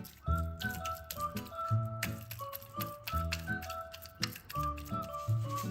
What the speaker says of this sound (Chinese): 再用叉子在猪皮上密集戳插